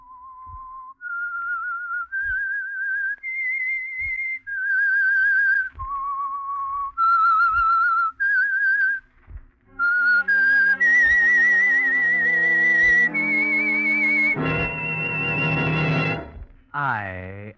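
A lone whistler carries a bright, wavering melody of sustained notes from a 1947 radio drama opening, joined midway by a fuller tonal swell, with faint regular thumps underneath.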